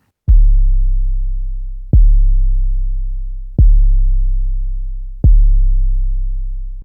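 Four deep, smooth 808 bass notes from a DAW repeat at an even pace, each starting with a soft click and sustaining a dull, rounded low tone that slowly fades.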